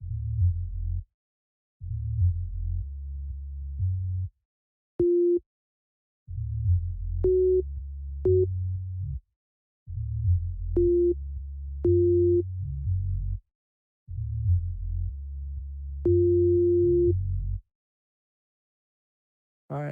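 Low sine bass notes from an Operator software synth play in short sustained phrases separated by silences, with brief higher blips between them, clean and alone.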